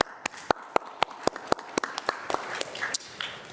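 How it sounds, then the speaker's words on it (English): A brief round of applause at a county board budget work session, with distinct sharp claps in a steady, slightly spaced rhythm that loosens and thins toward the end, fairly close and moderate in level. "Just a short round of applause for you all."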